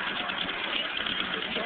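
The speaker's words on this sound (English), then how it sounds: "That was an airplane engine." An Allison aircraft engine powering a tractor-pull vehicle runs steadily nearby, making a continuous dense roar with an even idling-like rumble and no distinct revving over the short stretch.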